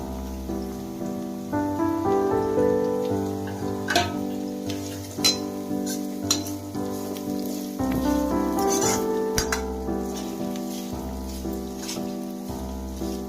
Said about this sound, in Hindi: साथ ही हम इसमें डाल देते हैं कटा हुआ प्याज।